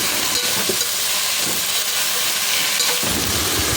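Long beans curry frying in a pan, a constant loud sizzling hiss with soft scraping from stirring at intervals.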